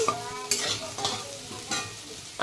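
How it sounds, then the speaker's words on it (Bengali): Potatoes fry in a pan with a steady sizzle, broken by several sharp stirring scrapes at roughly half-second intervals. "এইদিকে আলু ভাজা বসিয়ে দিয়েছি"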